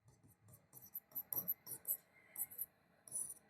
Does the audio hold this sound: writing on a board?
yes